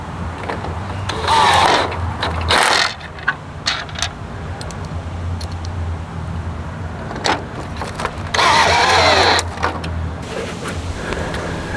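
Screws are driven in with a power tool while a grille is fitted to a 2014–2019 GMC Sierra 1500 pickup, giving several short, loud whirring bursts separated by quieter handling noises and clicks.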